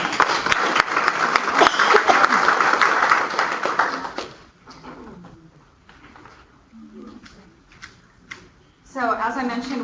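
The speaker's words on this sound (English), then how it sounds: "So I want you guys to give yourselves a round of applause," Meeting audience clapping dense and loud for about four seconds, then fading into scattered claps and a voice speaking, with talk resuming near the end.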